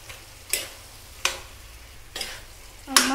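A spoon stirs mushroom masala with tomatoes and ground spices in a pan over a low sizzle, scraping in four distinct strokes spaced roughly a second apart, close by and without talk.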